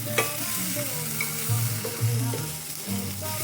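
Salmon sears in a cast iron pan, a steady close sizzle and frying crackle running unbroken throughout with a few soft scrapes on top.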